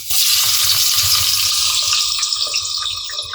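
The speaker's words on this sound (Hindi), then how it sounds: "ऑयल हमारा गर्म हो चुका है। अब हम उसमें अपनी प्याज डाल देते हैं।" Onions dropped into hot oil in a pressure cooker hiss and sizzle loudly and close at first, then crackle and settle into a softer, uneven frying sizzle.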